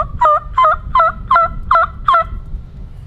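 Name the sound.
wild turkey gobbling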